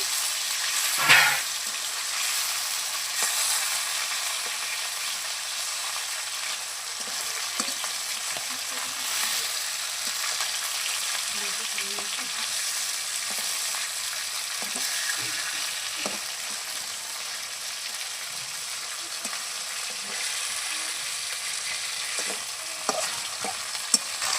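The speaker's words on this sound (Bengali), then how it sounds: "মাছের এক পিট ভাজা হয়ে গেছে এখন উঠে দিচ্ছি" Fish fries in a pan on a clay stove, a steady soft sizzle that runs the whole time with occasional light scrapes and a few sharper clicks.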